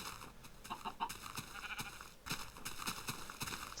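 Sheep bleating in the Minecraft video game, several repeated short bleats in fairly quick succession over a steady game background, moderately loud and with no talking.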